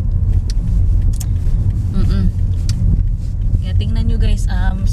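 Road traffic heard from inside a car on a congested road in Preston, England: a steady low engine and road rumble runs throughout, with passengers talking over it.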